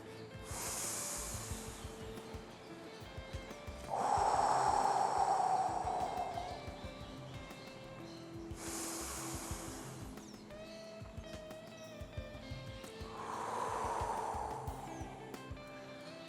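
Slow, deep breathing during a yoga stretch in a strength and balance session: airy inhales and exhales alternate in an unhurried rhythm, close and soft, with no talking.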